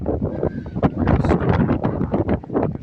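Strong wind roars and buffets the microphone continuously, a dense rumbling gust with no distinct voices, on the dusty Karakoram Highway in Pakistan.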